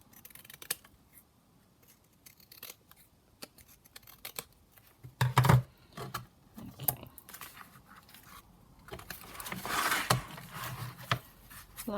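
Paper being trimmed for a junk journal: a few quiet, close snips and rustles of scissors, with a louder cutting burst partway through and another rustling stretch near the end, no voices.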